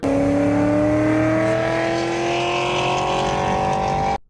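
A 2005 Pontiac GTO's engine pulls hard under acceleration, a loud steady drone with rising tones climbing smoothly before cutting off abruptly at the end.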